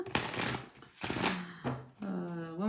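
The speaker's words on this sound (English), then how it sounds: "One more shuffle for you" Tarot cards are shuffled in several quick riffling bursts, close and crisp, with short pauses between each pass.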